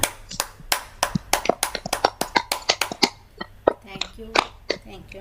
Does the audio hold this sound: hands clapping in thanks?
yes